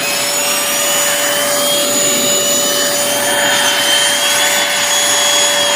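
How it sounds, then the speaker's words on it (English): A Hoover Dual Pro carpet cleaner running with its upholstery brush makes a loud, steady motor whine. A sharp high tone holds throughout over constant suction noise, alone and close. "And the vacuum works good. But that brush is spinning pretty fast."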